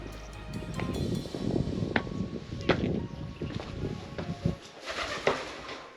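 Pigeons coo inside an old fort with a wooden structure, soft low calls repeating under wind and faint background noise.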